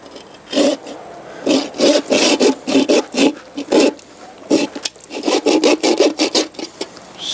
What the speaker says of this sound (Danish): så tager vi vores sav, samme sav, som vi skar trofæet af med, og så lægger vi et savsnit her